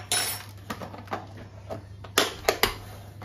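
Cookie batter with baking powder is mixed in a bowl, heard as irregular clinks and scrapes of a utensil against the bowl, several sharper taps near the end.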